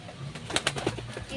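Pigeons give a few soft, low coos close by, brief and fairly quiet, with a murmuring voice in the background.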